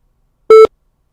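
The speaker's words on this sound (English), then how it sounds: "At the tone, please record your message." A single clean electronic tone sounds for about a fifth of a second on a voicemail system, marking the start of recording in otherwise silent surroundings.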